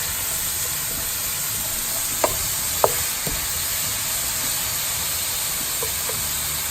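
Leeks cooking in salted butter in a pan give a steady, soft sizzle and hiss, with a few faint clicks of stirring and no voices.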